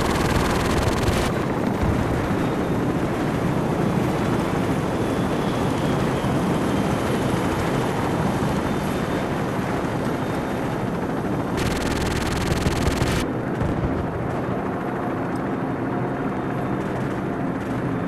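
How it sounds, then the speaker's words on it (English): Friendly helicopters in the Call of Duty 4 mission Death From Above, a continuous loud roar of rotor and engine noise mixed with distant gunfire, steady throughout with brief shifts in tone. "Crew, be advised, friendly helicopters entering the area."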